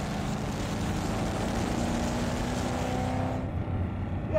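A fast, aggressive-sounding car's engine drones steadily at close range, a sustained rumble with a rising harmonic tone before cutting off near the end; no talking.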